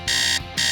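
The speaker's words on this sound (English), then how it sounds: "she didn't hear her alarm on her phone ringing" A phone alarm ringing with two loud, bright electronic tone bursts separated by a short gap, heard clearly and alone.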